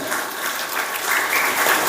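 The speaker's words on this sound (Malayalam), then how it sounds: "എല്ലാവരും ഒന്ന് കൈയടിച്ച് അദ്ദേഹത്തിന്." Audience at a public gathering applauds a religious leader marking 25 years of monastic life, with steady, sustained clapping from many hands throughout, fairly close and continuous with no voices over it.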